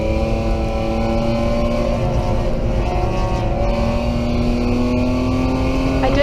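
A BMW race car engine accelerates hard on the Taupo circuit during a race, its loud, close, continuous roar climbing steadily in pitch as the throttle is held open.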